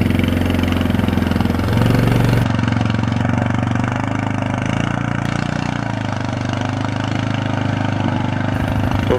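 A Yamaha ATV, a Kodiak or Grizzly quad, chugging through deep mud near Contact Bay, its engine a loud, steady, close drone that holds for the whole stretch.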